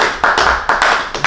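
A small group claps hands in short bursts, about five quick sharp rounds of clapping close by with brief gaps between them, in an informal holiday shopping gathering.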